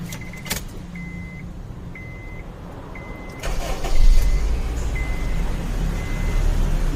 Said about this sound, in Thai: มาสตาร์ทเครื่องเลยค่ะ